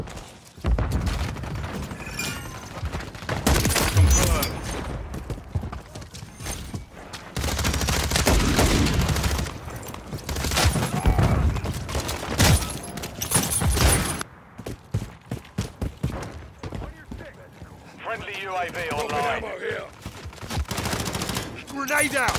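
Rapid automatic gunfire and loud bursts rattle through a Call of Duty-style Kill Confirmed match on the Drive Thru map, with repeated volleys, short pauses and a quieter stretch near the end, while radio-style callouts play over the shooting.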